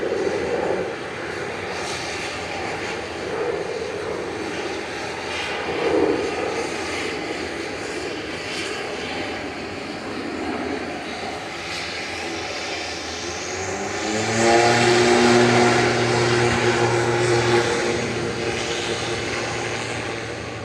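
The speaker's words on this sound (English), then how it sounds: "Lined up and ready to go is Aer Lingus Regional Flight 3323 back to Dublin, ATR 72600" An Aer Lingus Regional ATR 72-600 turboprop powers up for takeoff at Manchester Airport, a steady loud engine drone that swells near the end with a rising propeller hum.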